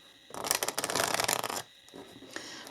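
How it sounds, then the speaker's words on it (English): Tarot cards being shuffled close up, a rapid riffling burst of about one second followed by quieter card taps and rustles. "then we're going to shuffle these cards, and I'm going to look at some of the tarot cards"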